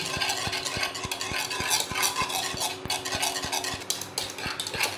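A whisk beats half a portion of cream for coconut ice cream in a bowl, a fast, steady rhythmic clatter of regular strokes, loud and close, with no talk.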